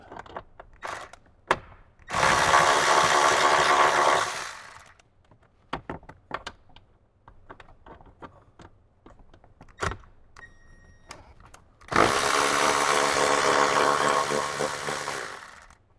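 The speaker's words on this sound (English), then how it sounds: "get our impact gun. So there's our first 13mm bolt." A cordless impact gun spins 13mm bolts off the interior trim of an '18–'23 Jeep JL Wrangler, firing two long, loud, rattling bursts separated by quiet stretches full of small clicks and handling taps.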